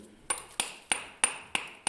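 A small handmade hammer taps six times in an even rhythm, each a sharp, close, ringing knock, while securing flat VVG and ShVVP cable against a wall; no one speaks.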